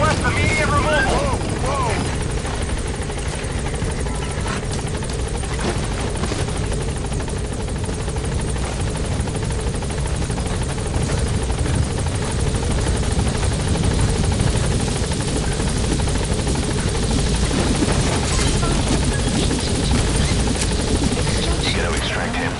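A helicopter in the Metal Gear video game hovers near a landing zone, its steady rotor drone and engine roar loud and continuous throughout, with radio voices talking over it.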